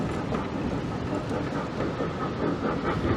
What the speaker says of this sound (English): So here's the train again.